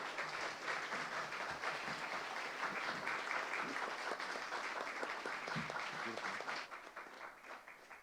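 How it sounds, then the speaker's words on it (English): An audience at a climate forum for Seattle mayoral and King County executive candidates applauds steadily for about eight seconds, a dense even round of clapping that thins and fades near the end. "Could we get another round of applause for the candidates?"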